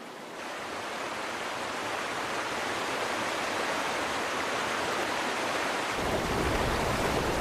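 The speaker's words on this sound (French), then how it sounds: "Les torrents dévalent les gorges étroites des chaînes de montagnes, érodant le paysage." Torrents of water rush down narrow mountain gorges, a constant broad roar that swells slightly louder near the end, with no voices.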